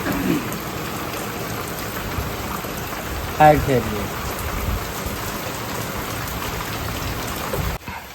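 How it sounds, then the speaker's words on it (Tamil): Steady rain pours down outdoors as the sky darkens, a continuous dense hiss with a brief louder disturbance midway, heard without talking. "இன்னும் மழை விடல ரொம்ப இருட்டிகிட்டே வருது"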